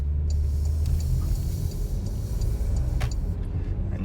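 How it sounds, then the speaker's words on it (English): A 2021 Porsche Macan S gathers speed on a main road, its engine and tyre rumble heard from inside as a steady, low drone with a faint tick, and no talk over it. "And you could hear the car picks up speed really quick in the Macan S."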